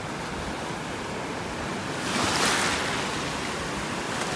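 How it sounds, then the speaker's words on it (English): Ocean waves churn and wash steadily along a beach in North Naples, Florida, a continuous broadband rush that swells louder midway as a wave breaks close by, with no voices. "These waves have really got the bottom churned up."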